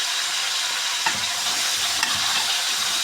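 Minced garlic and parsley sizzle steadily in hot oil in a pan, a dense close hiss with a couple of soft stirring knocks from a utensil, no voices.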